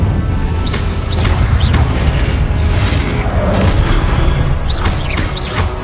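The Incendio fire spell is cast repeatedly in Hogwarts Legacy: loud booming bursts of flame, several in quick succession, with short whooshing sweeps over a continuous roaring bed.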